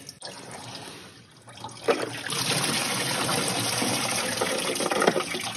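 Leftover coolant drains from a freshly removed water pump off a 1999–2003 VW TDI ALH diesel engine, a steady close splashing trickle and gush that briefly eases, then pours on continuously.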